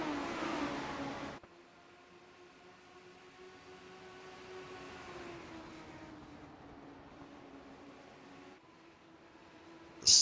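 Race cars at Lucas Oil Raceway in iRacing, a steady droning engine tone with gradually shifting pitch after a louder opening burst, ending in a sharp loud bang, with no talk.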